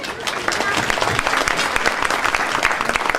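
An audience claps in a dense, lively burst of applause that runs steadily throughout, welcoming a speaker at a community event.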